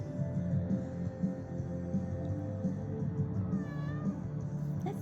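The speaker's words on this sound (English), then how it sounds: "Cats." Cat meowing repeatedly over a steady low background hum, the calls rising and falling in pitch and growing clearer toward the end.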